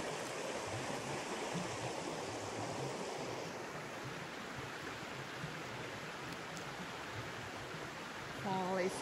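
The Ohanapecosh River, fed by melting glaciers and snow, rushes as a steady broadband wash of flowing water at moderate distance, with a brief faint chirp near the end.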